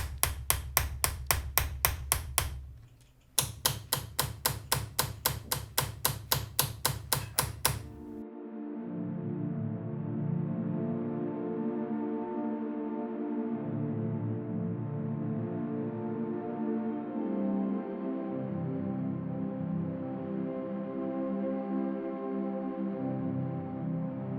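A hammer taps a chisel rhythmically while hand-engraving metal, rapid sharp regular strikes in two bursts with a brief pause, followed by a sustained tonal hum for the rest.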